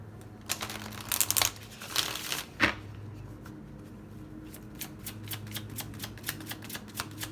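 Tarot cards being shuffled during a love reading, a run of soft riffling and crinkling bursts in the first few seconds, then lighter taps and card rustles over a steady low hum, no talking.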